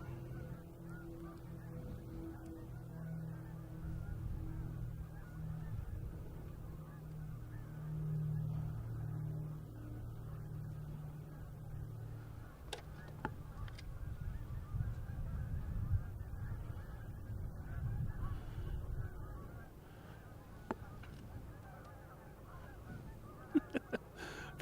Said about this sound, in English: We got all the birds cackling away out here. Like a flock of Canadian geese.